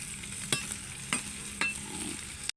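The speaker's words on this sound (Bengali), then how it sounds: "যেই কড়াতে মাছ ভাজছি" Fish frying in a wok gives a steady close sizzle, broken by three sharp stirring clinks spaced about half a second apart, with no voices.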